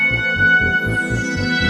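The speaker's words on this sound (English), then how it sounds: "Give me a spring reverb." A pulsing IK Multimedia Syntronik OXa software synthesizer pattern with a steady rhythmic throb, its tones smeared and splashy through a spring reverb, loud and continuous.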